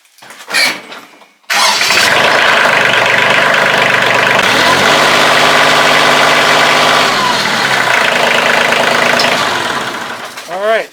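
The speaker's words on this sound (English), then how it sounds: "Let's go ahead and fire up the tractor." A Kioti CK2610 compact tractor engine cranks and starts after a short pause, then runs steadily at a loud, even idle, its low rumble settling before easing down near the end.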